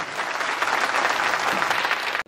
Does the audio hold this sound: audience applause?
yes